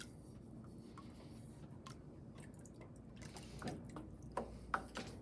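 Clear ceramic glaze poured into a piece of pottery gives a quiet, steady liquid trickle with a few small drips and splashes toward the end, heard alone without talk.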